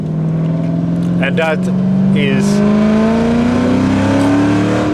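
A 1996 Ford Mustang SVT Cobra engine revs up steadily while accelerating, its loud drone rising in pitch from inside the car, with someone talking briefly over it.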